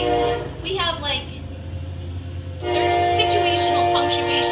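A passing train sounds its horn in long, loud harmonic blasts, first briefly and then sustained near the end, over a steady rumble of the train rolling by.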